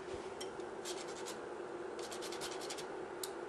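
Fresh whole nutmeg being grated by hand in a home kitchen, a few soft, quiet rasping scrapes in short bursts close to the listener, set against a faint low background hum.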